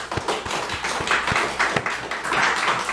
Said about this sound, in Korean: 우리 박수로 하나님께 영광을 돌리겠습니다.